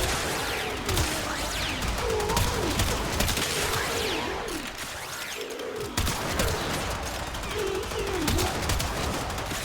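Weapon fire in the video game Warframe, dense continuous bursts of shots and impact effects, loud and busy throughout, with warbling tonal effects layered underneath.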